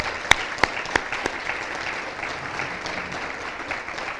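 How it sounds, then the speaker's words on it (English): A crowd at a university awards banquet claps steadily for several seconds, with a few sharp, close claps standing out at the start over the even wash of applause. "Let's give them another round of applause."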